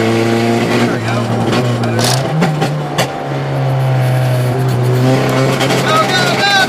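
A Honda CRX on its first test lap: a close, loud engine drones steadily, dipping and climbing in pitch through downshifts, with a voice speaking over it.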